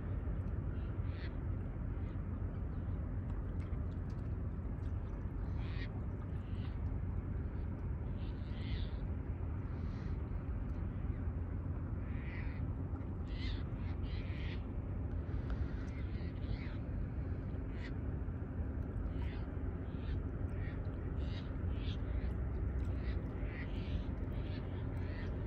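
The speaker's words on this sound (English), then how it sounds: "A lot of the birds are hooping it up over here." Seagulls calling near the water by a ship docking area, scattered faint cries over a steady low rumble, repeating throughout.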